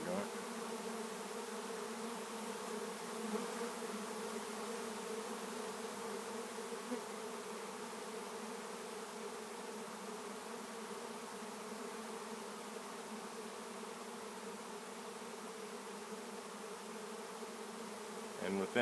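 A honeybee swarm pours into a wooden capture box, a dense, steady buzzing drone that holds unbroken and fairly loud throughout, with no voices over it.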